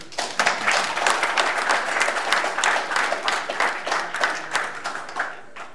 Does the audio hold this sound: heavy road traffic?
no